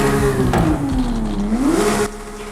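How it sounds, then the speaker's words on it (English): A 2023 Porsche 911 GT3 RS revs in Forza Horizon 5, its engine note dipping then climbing sharply before cutting off, a close, loud exhaust sound with no voices. "I did say we'll check out the exhaust notes"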